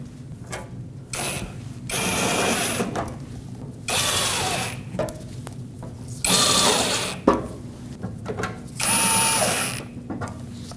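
A ratchet clicks in repeated bursts while screws are driven into the underside shield of a Nissan Frontier front bumper, set against a steady background hum.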